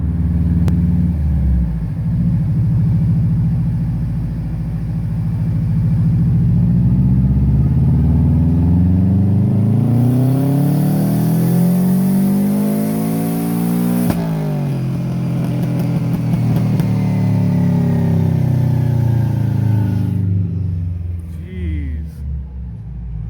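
A turbocharged Subaru Legacy with stock 2.5D heads revs hard on a dyno, the engine note sweeping up and down in long loud pulls with a sharp pop of backfire near the end.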